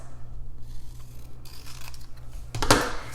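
Scissors snipping through paper while making a children's sight word craft, a few soft quiet cuts ending in a brighter, crisper snip, with no talking.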